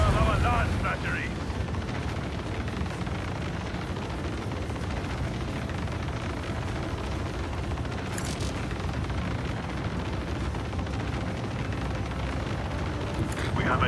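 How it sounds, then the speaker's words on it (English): Lance batteries fire in a space battle in Warhammer 40k Rogue Trader, a continuous deep, roaring rumble that holds steady throughout with a few brief hissing bursts. "Unleash the power of our lance batteries!"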